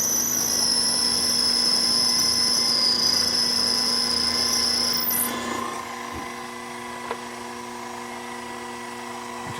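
A drill cuts into a metal fixture plate with a high, steady whine over machine hum, then the pitch sags and the whine cuts off as the tool spins down, leaving a lower motor drone.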